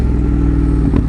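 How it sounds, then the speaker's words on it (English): Ducati 916 motorcycle engine running steadily with a low pulsing exhaust note, a brief sharper crackle-like burst from the exhaust near the end under acceleration, close and loud throughout. "listen to it, some nice little crackles from the exhaust on the acceleration"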